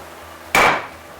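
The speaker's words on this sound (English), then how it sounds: "Sometimes you just need a bigger hammer." A single sharp hammer strike on a Honda GX200 engine while removing its governor, loud and close, with a quick metallic ring that fades in a fraction of a second.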